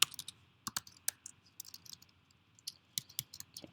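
Someone types on a computer keyboard while writing code: quick, irregular bursts of crisp keystroke clicks with short pauses between them, close and fairly quiet, with no voices.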